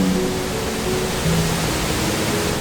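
A steady, broad rush of falling water from a waterfall near the mouth of the Barranco de Azuaje ravine fills the clip, constant and fairly loud with no voices.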